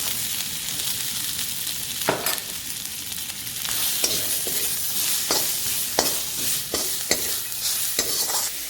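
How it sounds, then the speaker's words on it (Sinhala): Garlic sizzling in a little oil in a pan for mie goreng, a steady bright hiss with a few sharp scraping clicks from stirring scattered throughout, close and continuous. "ඒකල අපි මේ විදිහට මුලින්ම සුදු ලුණු ටික දා ගන්නවා."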